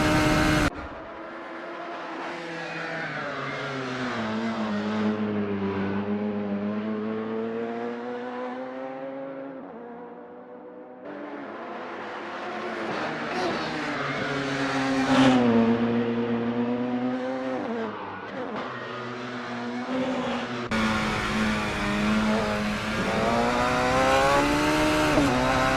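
A Radical SR3 race car laps Mid-Ohio in a racing game, its engine loud and close, rising in pitch through each gear and dropping on shifts, with a brief dip midway before revving hard again.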